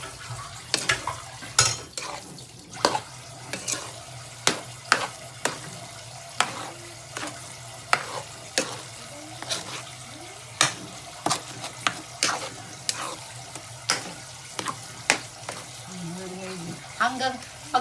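Biko, a Filipino sticky rice cake, being stirred in a pot as it thickens: repeated close scraping strokes in an irregular rhythm with a light sizzle underneath, and no voices.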